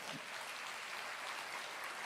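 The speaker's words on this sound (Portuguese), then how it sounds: "vamos aplaudir ao Senhor" A church congregation applauds the Lord, a dense, even wash of clapping that stays steady and faint throughout.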